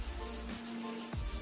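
Sandpaper scrubbed over stains on a toilet bowl gives close, steady gritty rubbing strokes, loud and continuous with a brief pause, and no talking.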